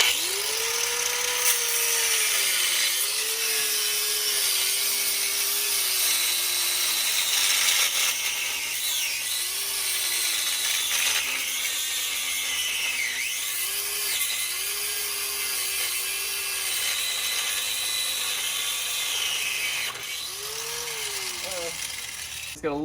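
A Harbor Freight angle grinder whines steadily against the exhaust of a Can-Am ATV, its pitch dipping and rising as it bites into the metal, continuous and loud for over twenty seconds.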